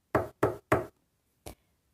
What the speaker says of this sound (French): Lulu Grenadine frappe à la porte.